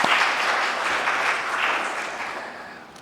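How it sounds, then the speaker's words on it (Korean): A church congregation applauds the choir after a hymn, a dense, steady wash of clapping that carries on for the full three seconds and fades a little toward the end, with no voices over it. "우리 박수 한번 쳐드릴까요?"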